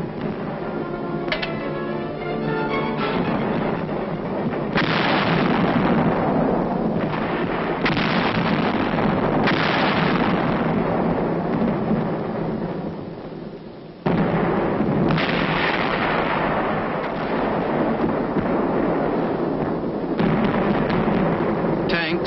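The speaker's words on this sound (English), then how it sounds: "the big guns from this forward position concentrate their fire on known and suspected targets" Big guns firing from a forward position in the Korean War: repeated heavy booms and blasts, loud and close, overlapping in a dense, continuous barrage with narration running throughout.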